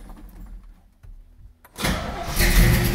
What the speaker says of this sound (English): we're going to give her a start here